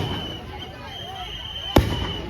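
A single sharp firecracker bang cracks out near the end over a steady background hum with faint voices.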